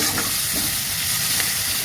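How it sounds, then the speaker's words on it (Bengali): Small fish sizzle hard in hot oil in a pan with whole garlic cloves, onion, green chilli and salt. The frying is a loud, dense, continuous hiss, close up and without talk. "চুনো মাছ, গোটা কোয়া রসুন, পেঁয়াজ আর এই যে কাঁচা লঙ্কা দিয়ে ব্যাপারটাকে একটু নুন দিয়ে বেশ ভেজে নিচ্ছি,"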